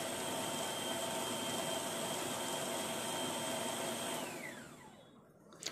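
A food processor's chopper bowl motor whirs steadily at high speed mixing mutton seekh kabab mixture, then winds down with a falling pitch and stops, followed by a small clunk.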